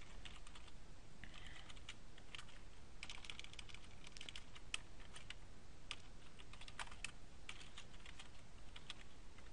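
Soft, steady computer keyboard typing as a name is entered while configuring Outlook for hosted Exchange, faint against a constant hiss, with irregular keystrokes and no speech.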